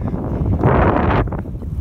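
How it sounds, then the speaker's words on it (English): Wind blowing hard across an open microphone while cycling through a national park on the Adriatic coast of Dugi Otok island, a steady broadband rush that swells into a louder gust in the middle before easing off. "Obviously a little windy."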